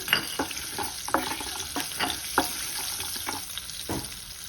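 Broken dried red chillies and slit green chillies sizzling in hot oil for munagaku pappu, a constant close frying hiss dotted with stirring scrapes and light taps, no voices.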